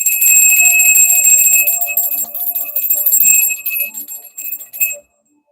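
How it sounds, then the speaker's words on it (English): A solar plexus bell is shaken and rung in a bright, continuous metallic jingle for about five seconds, then cuts off abruptly into silence. "we're going to clear out the negative energy with the solar plexus bell"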